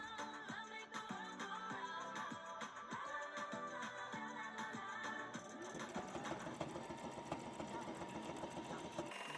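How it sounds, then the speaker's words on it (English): A sewing machine stitches a fabric face mask with a steady, fast mechanical whir and rapid needle clatter, running continuously at close range. "fold the open pieces of fabric together and begin sewing at that spot"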